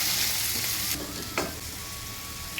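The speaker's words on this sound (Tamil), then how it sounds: "தக்காளி நல்லா சாஃப்டாகிற வரைக்கும் வதங்கி வரட்டும்" Tomatoes sizzle and crackle in a hot pan while sautéing for pepper chutney, a steady frying hiss with a couple of stirring scrapes.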